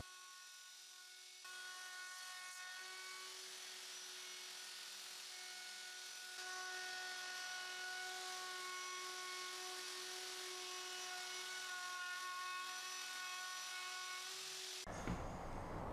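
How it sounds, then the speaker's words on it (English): Handheld router with a profile bit cutting wood, a steady high whining motor hum that steps up in pitch and loudness after a couple of seconds and holds constant before stopping abruptly near the end, with no talk. "using a profile bit and a handheld router to do the rest"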